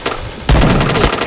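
A single sharp T77 gunshot in a shooter video game, a loud close crack followed by a dense burst of impact and game effects.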